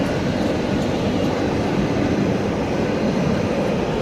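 A Freightliner Class 90 electric locomotive, number 90045, passes with its train on the West Coast Main Line at Nuneaton, a loud, steady rumbling roar close by with no voices.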